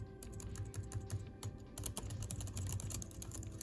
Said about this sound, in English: That's the good keyboard.